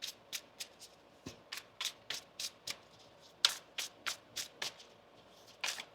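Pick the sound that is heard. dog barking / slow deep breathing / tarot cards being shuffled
tarot cards being shuffled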